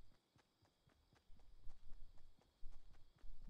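Footsteps in the Fortnite video game, a run of soft thudding steps in an uneven walking rhythm that grows heavier and closer partway through, with no talking over them.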